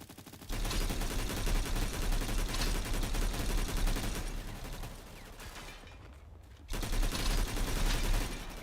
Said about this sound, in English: I just missed all those shots.